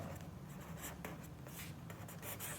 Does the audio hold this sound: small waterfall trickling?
no